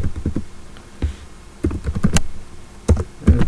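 Someone types a username and password on a computer keyboard at a Linux terminal, giving irregular bursts of close, distinct key clicks separated by short pauses.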